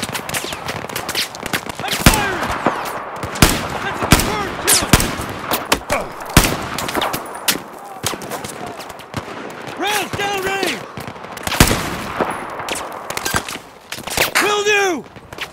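Rapid gunfire in the video game Battlefield 4 crackles in dense bursts of sharp automatic shots, loud and close, with shouting voices breaking in between the volleys.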